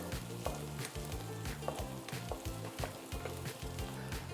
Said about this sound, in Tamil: நம்ம சேர்த்த குடமிளகா கொஞ்சம் கரெக்டாக கொஞ்சம் லைட்டாக ஃப்ரை ஆகி வரப்போ